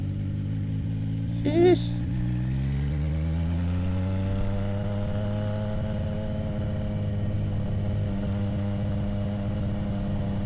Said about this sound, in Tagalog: Mamimiss ko yung pagkabulahaw ng bike na to.